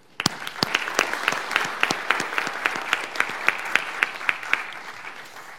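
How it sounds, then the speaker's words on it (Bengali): Audience applause welcoming the chief guest at a shadow parliament debate event, a dense burst of many hands clapping steadily and fairly loudly throughout. "আমরা আমাদের আজকের এই অনুষ্ঠানের সম্মানিত প্রধান অতিথি, অত্যন্ত নির্মম আলোচক জনাব HM শফিকুজ্জামান স্যারকে সবাই জোরে তালি দিয়ে অভিনন্দন জানাই।"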